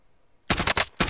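Krig 6 rifle fire in Call of Duty Warzone, a sudden burst of rapid, loud, close automatic shots in quick clusters after a short quiet lead-in.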